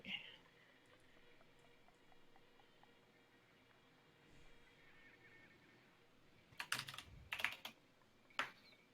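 Computer keyboard with a sticking shift key, faint scattered keystrokes clicking softly in a quiet room, followed by a few louder, sharper bursts of taps near the end.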